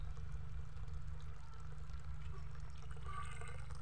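Cold spring water from a natural source flows steadily through a backyard vegetable garden, a continuous close trickling and pouring stream with no voices.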